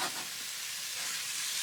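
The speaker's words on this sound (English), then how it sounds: "Now we can go back to these, stir them around a little bit." Food frying in bacon fat in a pan gives a steady, soft, broad sizzle with faint stirring scrapes underneath, continuous and even throughout.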